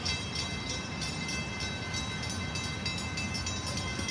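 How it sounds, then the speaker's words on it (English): A train passing near a drawbridge on a Boston duck tour makes a faint, distant, continuous rumble with steady rolling noise and no talking. "There should be a train coming, right?"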